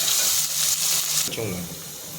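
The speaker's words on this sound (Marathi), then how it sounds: "आणि लगेच त्याच्यामध्ये आपण कांदा टाकूया मिक्स करून घ्यायचं आहे कांद्याला सोनेरी रंग येईपर्यंत आपल्याला ते परतायचं" Onions sautéing in a hot pan until golden, a steady bright sizzle with a stir partway through, the hiss easing slightly afterward, close and alone.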